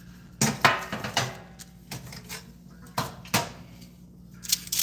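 Cheese cracker dough for keto crackers laid onto a parchment-lined sheeting pan in a kitchen, giving a series of close, sharp knocks and clatters of the pan with softer rustles in between, and no talking.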